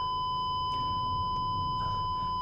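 An Audi A6 left neglected for six months sounds a steady electronic warning tone inside the cabin, a thin continuous beep held at even volume over a low engine hum, with no talk.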